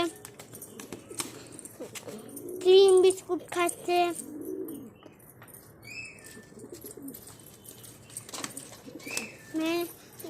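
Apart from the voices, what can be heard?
pet pigeons cooing and flapping while eating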